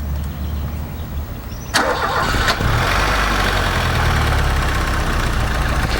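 A 1995 Fiat Tempra Turbo starts with a sharp crank and catch, then settles into a loud, close, steady idling rumble that continues to the end.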